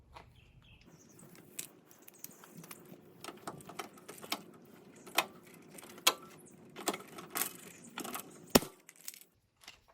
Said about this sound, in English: So that's 1 rivet in. We're going to go ahead and put in the other one.